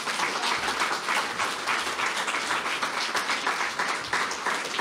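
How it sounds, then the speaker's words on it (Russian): Sustained audience applause at a theatre award ceremony, dense clapping from a large crowd filling the whole stretch at steady loudness with no letup. "Нескончаемые аплодисменты"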